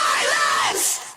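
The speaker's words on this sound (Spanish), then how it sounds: "Y aquí súper saturado ese grito que dan aquí." Heavily distorted, saturated vocal scream in a rock song, a short loud sustained yell lasting about a second before fading out.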